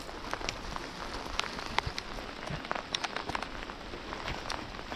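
Steady rain patters on surfaces outdoors during a thunderstorm while fishing, with dense, scattered drips and taps at a moderate, even level, no voices.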